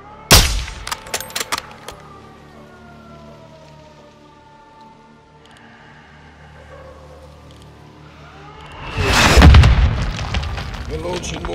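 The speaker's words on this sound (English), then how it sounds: "We're launching mortars." Mortar rounds thud and boom across a Call of Duty: Modern Warfare II battlefield, a sharp blast at the start and a louder, heavier explosion rumbling near the end, with a low drone and a voice talking in between.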